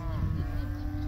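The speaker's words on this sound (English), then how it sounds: "Very noisy, these cows, aren't they?" Cows low nearby beside a river in a farm field, one long, loud, drawn-out moo carrying through the short moment, with no talking over it.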